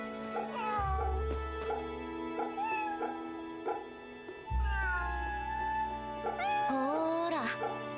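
A cat in Fate/Samurai Remnant meows repeatedly while being petted: drawn-out, rising and falling meows, close and clear, spread through the stretch over a steady game music bed, with a voice speaking briefly.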